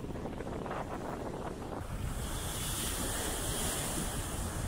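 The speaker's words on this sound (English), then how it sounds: "Let's have a quick look down here at the waves. Quite choppy at the moment." Choppy sea waves surge against the shore at Scarborough's bay in strong wind, with heavy wind buffeting the microphone throughout and steady broadband roar of surf, loud and close.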